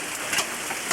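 Rain falls as a steady, dense hiss with soft patters of drops, faint and continuous throughout, with no voices.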